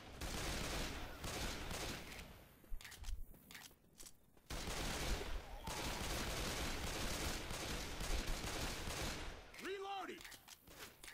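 Sustained bursts of gunfire in the zombie shooter Left 4 Dead 2 on a custom campaign, loud and rattling in long stretches broken by short pauses, with a rising tonal squeal near the end.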